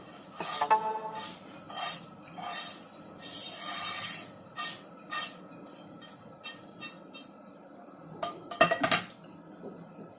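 A semolina mixture with curry leaves, cashew nuts and spices is tipped into coarsely ground oats in a bowl, giving close spoon clinks and scraping bursts with pauses between, then a busier clatter near the end.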